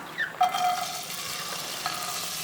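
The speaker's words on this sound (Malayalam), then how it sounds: "അതേ പാനിലേക്ക് 1 ടേബിൾ സ്പൂൺ ഓയിൽ ചേർക്കുന്നുണ്ട്. ഇതിലേക്ക് വെണ്ടയ്ക്ക ചേർക്കാം." Okra goes into hot oil in a pan with a short metallic clink and a burst of sizzling, which settles into a soft, steady fry with no voices.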